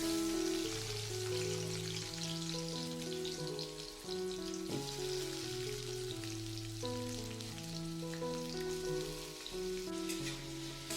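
Chopped onion frying in white oil in a pan on low heat, a soft continuous sizzle running under louder background music with no speech.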